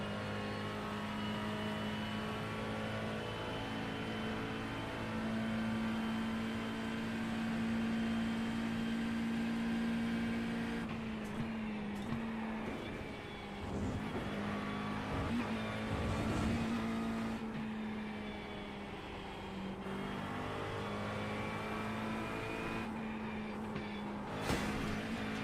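A race car engine in a sim racing game at Watkins Glen holds a steady, loud drone, with its pitch shifting as the car accelerates and lifts off through corners.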